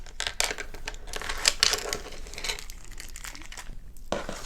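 Plastic bag holding the canvases from a Diamond Art Club diamond painting kit crinkles and rustles up close in irregular bursts, with no talk over it.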